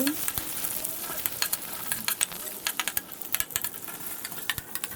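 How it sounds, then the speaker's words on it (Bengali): Onions sizzling and frying in hot oil in a kadai, a steady crackling hiss with dense bursts of popping throughout, close and fairly loud with no talk. "তেল গরম হয়ে আসার পরে আমরা পেঁয়াজ দিয়ে দিব।"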